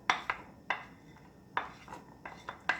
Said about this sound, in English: So in the pan I have about a tablespoon of oil, and I'm going to take the garlic, the shallots, and the pepper,